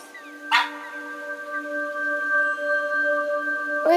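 A dog named Manju gives a short, sharp yip in the video game That Dragon, Cancer, a single brief cry over steady sustained tones.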